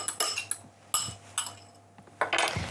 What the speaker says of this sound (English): 1 egg into a bowl, and I'll just grab a fork, give that a really good whisk